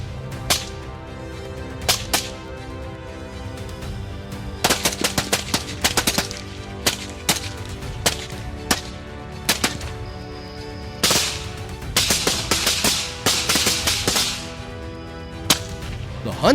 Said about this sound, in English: I managed to adjust my rifle and fire in rapid succession.